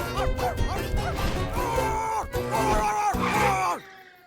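A person imitates a dog barking, producing a run of throaty, yelping woofs and whiny, groaning bark sounds close to the mic, rising and falling in pitch before cutting off abruptly.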